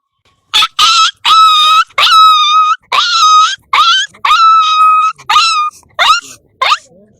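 A person's voice mimics a puppy with a rapid series of high, close whimpering yelps and whines, about ten short cries in a row.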